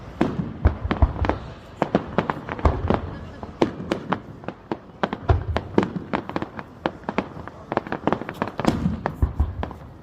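Fireworks burst over Cromer in a dense, irregular barrage of sharp cracks and booms, some near and loud, others fainter, continuing without pause for the whole stretch.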